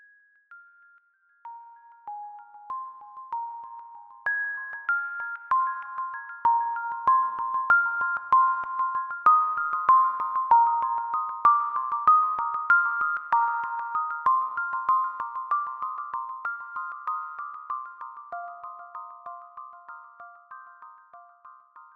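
Synthesized bell tones from acModules modules, their volume drifted by a separate LFO at the mixer, ring as a slow, sparse melody of struck, decaying notes that swell in and then fade out alone.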